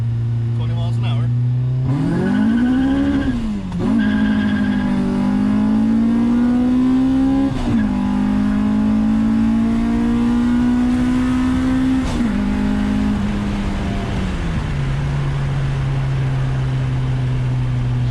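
A turbocharged G22 Honda Civic running on E85 pulls hard from first gear at about 20 mph, with the engine climbing steadily through rising revs and a gear change. The engine is loud inside the cabin and a voice talks over it.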